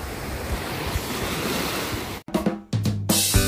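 Rough ocean surf at Olanivan Island in Davao Occidental: a loud continuous wash of breaking waves with wind buffeting the microphone, broken near the end by abrupt cuts and thumps.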